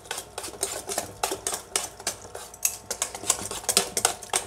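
A whisk beats mango semolina cake batter with milk and vanilla essence in a bowl, producing quick rhythmic clinking and scraping strokes that repeat steadily and close up.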